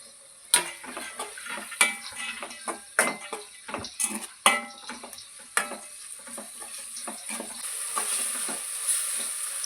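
Cooked horse gram stirred in a pan, a ladle scraping and clacking against metal in irregular knocks over a soft steady sizzle that swells toward the end.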